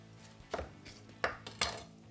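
A knife chops through an onion on a cutting board for a medium dice, giving three distinct, fairly close thuds spread over about two seconds, with quiet pauses between them.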